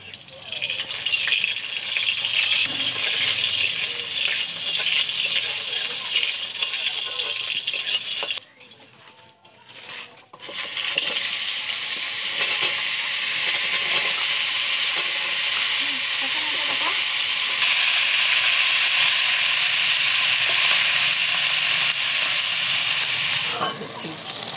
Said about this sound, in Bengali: আর এখন লাউ ঘন্টটা রান্না করছে জেঠিমা